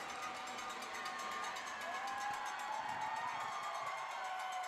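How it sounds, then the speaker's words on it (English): Arena crowd noise at a Halloween-night minor-league hockey game, a constant murmur of many voices with scattered shouts and a rising cheer, heard from a distance at fairly low level. "And it is quite loud in here. Good crowd."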